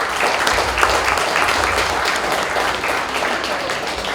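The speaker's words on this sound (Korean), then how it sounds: "박수를 많이 해주시고요." Steady, dense applause from an audience at a book concert and publication celebration, many people clapping continuously at an even, moderately loud level.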